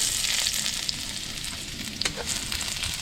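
Garlic sautés in hot cooking oil in a pan, a bright steady sizzle with a few stirring clicks and scrapes, heard on its own.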